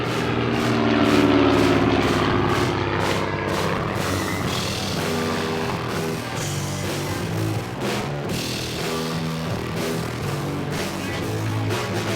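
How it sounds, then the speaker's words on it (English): A Cessna L-19 Bird Dog observation plane passes back and forth overhead above a jungle airstrip, its propeller engine droning loudly and steadily and swelling early before easing slightly, mixed with other dense sound and no talk. "a Cessna Bird Dog L-19 pilot flies back and forth over the strip"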